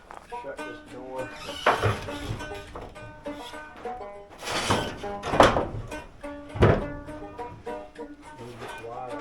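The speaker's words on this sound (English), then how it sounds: "Shut this door." The door of a steel saw shed is pushed shut, with several heavy metallic thuds and creaking, squealing hinge noises spread across the clip amid rustling movement and someone talking.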